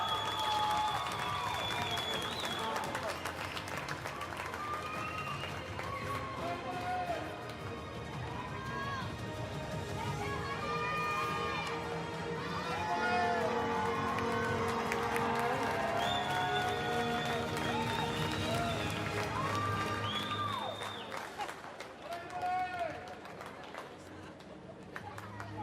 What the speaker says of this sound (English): please, once again, your applause for our medalists